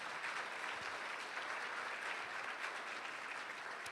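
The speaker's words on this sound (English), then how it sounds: "Let's give everybody a round of applause." Sustained audience applause at a fifth-grade school arts celebration, many hands clapping steadily in a dense, even wash heard from some distance in the room.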